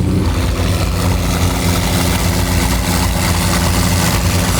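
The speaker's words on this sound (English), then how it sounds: "720's louder than the Aventador idle." A supercar idling, either a McLaren 720S or a Lamborghini Aventador, a loud close rumbling engine holding a steady low throb for several seconds with no talk.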